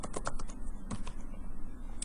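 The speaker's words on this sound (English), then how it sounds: "I'm going to type to my service management bot again" Someone types a command to a service management chatbot on a computer keyboard, with a quick run of crisp key clicks at the start and then a few sparser taps over a quiet background.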